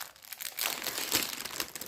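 Plastic packaging crinkles and rustles as a cross-stitch kit is unboxed, a close, soft run of irregular crackling with no talking.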